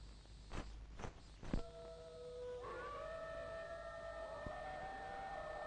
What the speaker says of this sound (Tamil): நரிகள் ஓலை விடுகிற சத்தம்.